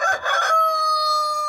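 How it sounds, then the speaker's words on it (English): A rooster in a barn lets out one loud, close crow that ends in a long sustained note, with other chickens around it. "This is the barn tour, and those are our chickens."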